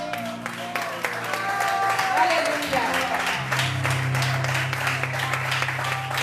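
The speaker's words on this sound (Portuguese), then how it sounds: "Aplaude o Senhor" A congregation at an evening prophetic church service claps for the Lord, sustained applause blending with a low held musical tone, while a voice speaks and calls out over it.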